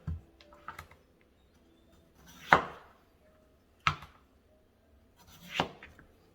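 A knife peels and cuts cucumbers for gazpacho. Three sharp, separate strokes land a second or so apart, each with a soft scraping lead-in, over faint background noise with no talking.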